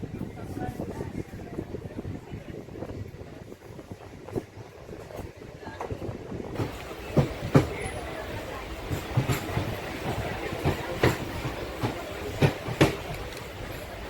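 A train rumbles steadily along the rails with rhythmic clacking and periodic sharp clicks, while voices talk faintly in the background.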